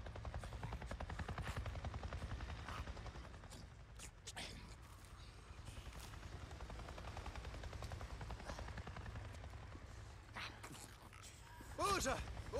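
Helicopter in the video game Days Gone, a steady low rotor drone running continuously throughout, with a brief louder swell near the end and faint game sounds over it.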